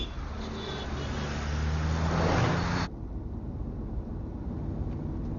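A car being driven out during a departure, with a steady engine and road rumble that swells for a few seconds and then drops abruptly to a quieter, even hum.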